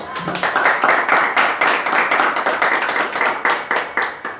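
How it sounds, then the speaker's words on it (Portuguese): Church congregation clapping hands together in praise, a dense, loud, steady round of many hands close by with only faint voices underneath. "Dê uma salva de palmas ao Senhor"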